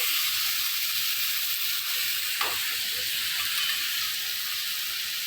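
Spiced masala water from a mixer sizzling in a hot pan: a loud, steady, bright hiss that continues without a break, with one small splash partway through.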